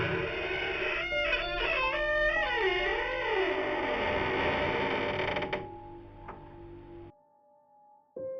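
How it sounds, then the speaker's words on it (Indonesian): A door is pushed slowly open with a long, loud, wavering creak that rises and falls for several seconds before fading into quiet, ending with a brief soft knock. "Ia mendorong pintu itu perlahan."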